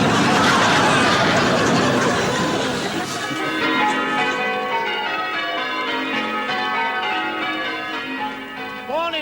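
Church bells ringing loudly and close, with overlapping peals decaying into a shimmering, sustained ring that slowly fades. Faint chatter and chuckles sit beneath.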